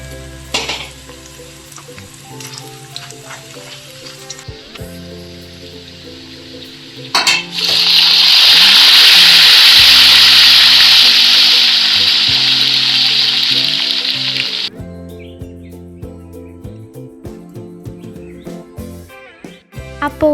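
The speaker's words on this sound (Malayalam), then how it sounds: "ബാക്കിയുള്ളതൊക്കെ നമുക്ക് ഇതുപോലെ തന്നെ വറുത്തെടുക്കാം" Banana chips deep-frying in hot oil for an Onam sadya, a loud bright sizzle surging in about midway and holding steady before dropping away, over quiet background music with no talking.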